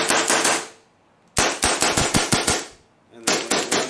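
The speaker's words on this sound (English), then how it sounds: "I can, actually fire it and make noise without killing people." Bursts of rapid shots from an air-powered gun firing rubber bullets, three loud close volleys of sharp cracks separated by brief pauses, no talking.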